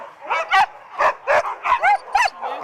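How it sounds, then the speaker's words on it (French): Sled dogs barking and yipping, close and loud, in a quick run of sharp barks and excited yelps with short gaps between them. "balade avec des chiens de traîneau"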